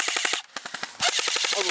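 Rapid bursts of automatic gunfire crackle in quick rhythmic volleys during a night combat shooter, loud and close with a brief pause between bursts and no talking.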